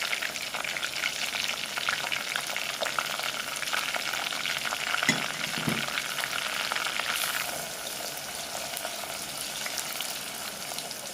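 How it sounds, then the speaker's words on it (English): Onion, fenugreek seed and black seed fry in hot oil for homemade onion oil, giving a dense, continuous sizzle with faint stirring, a couple of low thumps midway, and a slight softening toward the end. "This time oil will start boiling."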